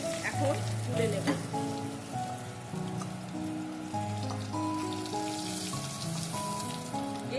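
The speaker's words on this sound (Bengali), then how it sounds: "ইলিশ মাছের মাথাগুলো আমি লাল লাল করে ভেজে নিয়েছি, এখন তুলে নেব।" Hilsa fish heads frying in oil until deep red-brown: a steady, dense crackling sizzle runs throughout, partly masked by tonal background music playing over it.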